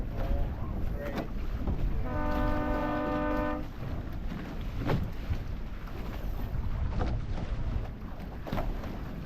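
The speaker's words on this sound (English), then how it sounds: "you can hear the trapeze line correcting itself on the mast" A brief creaking, tonal groan of a trapeze line on an F18 catamaran's mast rises out of steady gusty wind and rushing water, lasting a second or two before fading back into the wash.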